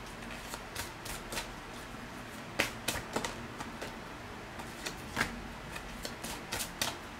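Tarot cards being shuffled by hand, producing a quiet run of crisp papery riffles and flicks in irregular bursts, close and soft with no voices.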